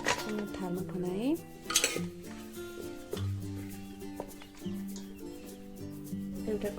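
Cooked siplighan pickle mixture is scraped and spooned into a metal plate, giving clinks, scrapes and rings of metal on metal in irregular bursts, close and fairly quiet.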